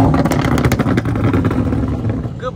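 A Dodge Scat Pack with an engine swap rumbles loudly at a car meet, its exhaust pulsing in a rough, choppy rev that eases off toward the end.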